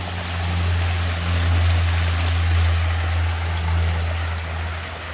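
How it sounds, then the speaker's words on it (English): A backyard pond waterfall flows in a steady, continuous rush of splashing water, close and fairly loud, with a low rumbling undertone and no voices. "I really love the sound of this waterfall."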